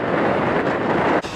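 Strong wind on the Cornish coast path between Land's End and Sennen Cove buffets the microphone in a loud, continuous rumbling roar that dips abruptly near the end.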